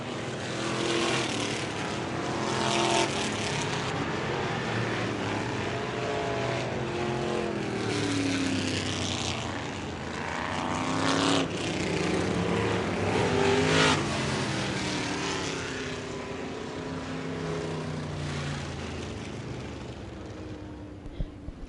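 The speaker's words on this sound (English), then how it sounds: "Shadwell needs as he takes the vintage car first feature over the B7 of Como" Vintage race cars on a dirt track at Merrittville roar past in a feature race, their engines swelling and fading in repeated waves as the pack laps, loud and continuous with rising and falling pitch.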